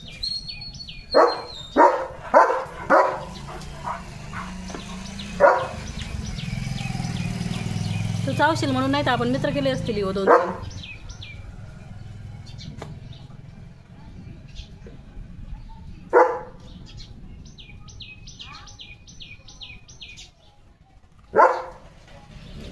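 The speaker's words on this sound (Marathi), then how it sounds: "पाऊस उघडल्यावर कुत्रे निघलेत बाहेर रस्त्याने." Several sharp dog barks, including from a German Shepherd, ring out in a quick cluster early on, then single barks later, over street noise after rain, a passing vehicle, birds and people talking.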